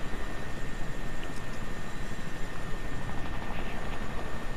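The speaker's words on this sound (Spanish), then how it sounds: "Y acaba de pasar otro helicóptero por aquí abajo." Helicopter in a shooter video game flying past nearby, a steady broadband rotor and engine wash that holds even and fairly loud throughout with no talk over it.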